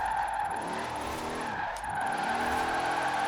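Dodge Durango drifting in Forza Horizon 4, its tires squealing in a continuous, loud skid with a brief dip partway through, the engine droning underneath.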